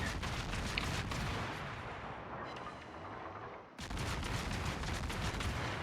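Naval gunfire rumbles and cracks in a warship video game, dense rolling blasts that ease off briefly before a sharp new burst of heavy firing resumes.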